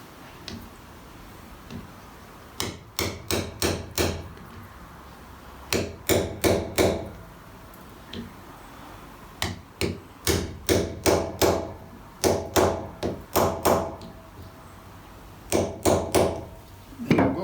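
Hammer taps drive new wheel bearings into a hub for a mobile sheep race, struck in tight clusters of four to six sharp metallic blows separated by short pauses, close and fairly loud with no talk.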